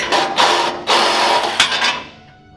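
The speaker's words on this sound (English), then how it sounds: "So I'm gonna finish cutting this off." Cutting off an old, torched and bent bumper mount on the frame of a Ford F100 truck with a power tool, loud, close bursts of harsh grinding that start and stop several times before fading out.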